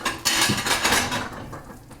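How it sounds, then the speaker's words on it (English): A plate is set and pressed down onto grilled cheese in a frying pan over a gas flame, giving a brief clattering scrape of ceramic on metal against a soft sizzle that fades out. "a plate right on top of my grilled cheese, and I like to press it down because I find that this helps it cook"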